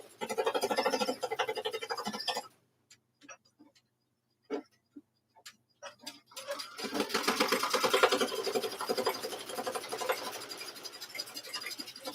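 An embroidery machine stitches quilt binding in a fast, steady mechanical chatter, running close for a couple of seconds, pausing amid scattered ticks and clicks, then resuming loud and continuous to the end.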